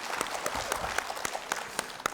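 A warm round of applause from a television studio audience welcoming a singer, dense clapping with a few sharp individual claps standing out, steady and fairly loud for the whole stretch.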